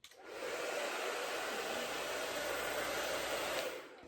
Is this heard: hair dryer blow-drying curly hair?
yes